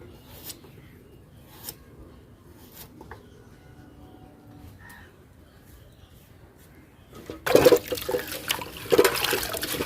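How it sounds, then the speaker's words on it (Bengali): Leafy greens are rinsed by hand in water: a quiet stretch with faint background noise gives way in the last couple of seconds to loud, close splashing and sloshing. "শাকটা ধুয়ে নিয়ে নেবো, ভালো করে ধুচ্ছি।"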